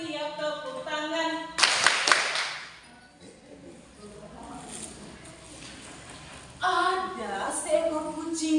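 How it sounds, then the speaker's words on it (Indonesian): Hand clapping during a children's song at a storytelling event, sharp bright claps in a quick burst between stretches of singing voices, with more claps joining as the singing resumes. "Kalau kau sudah siap tepuk tangan."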